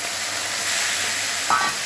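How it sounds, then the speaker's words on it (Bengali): Prawns sizzle steadily in hot oil in a wok, a loud, close, continuous crackling hiss with a brief scrape of stirring near the end. "আগে চিংড়ি মাছটা ভেজে নেব"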